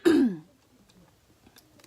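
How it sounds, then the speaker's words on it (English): One short, raspy throat clearing comes from a person who is sick, loud and close, followed by near silence with faint rustles. "Sorry, I keep clearing my throat."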